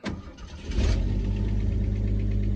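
A starter motor whirs for under a second before the engine catches and settles into a steady, close, rumbling idle, from a car with an engine tick and a fault forcing it to rest after short drives.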